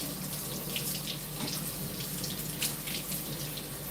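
Tap water runs steadily and fairly softly over a tomato plant container during a quick rinse, a continuous splashing stream with no voices.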